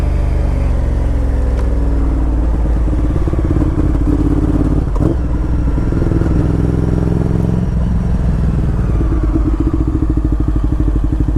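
Cruiser motorcycle with a giant rear tire riding at steady speed, its loud continuous engine drone close and dominant throughout, with a few thumps and rising revs near the end.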